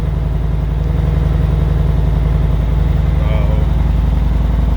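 A 2017 V900 motorcycle with partially debaffled exhaust, idling after a cold start, gives a loud, steady low rumble with an even pulsing throb that runs unbroken and close throughout.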